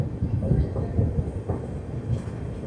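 A train pulling into Kannur station in Kerala, a steady low rumble of rolling wagons with faint clacks throughout, close and continuous, with no speech.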